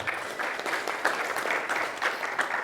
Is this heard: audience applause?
yes